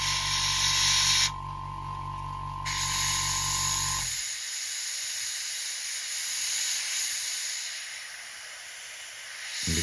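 An airbrush sprays thin, wash-like paint onto a Tamiya F4U-1D Corsair scale model, giving a steady, close airy hiss throughout. A low mechanical hum runs underneath for the first few seconds, then stops.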